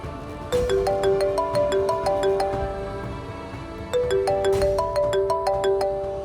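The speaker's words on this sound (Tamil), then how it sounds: "ஜோசியர் ஃபோன் பண்றாரு." A phone rings with an incoming call, its melodic ringtone playing a repeating pattern of bright tones in two clear cycles, close and steady with no voices.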